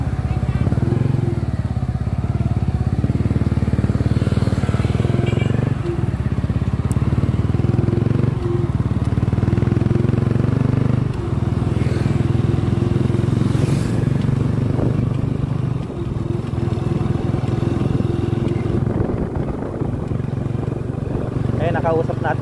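A Yamaha Sniper 150 motorcycle engine runs steadily nearby, a continuous low rumble with occasional clatter and slight surges in revs.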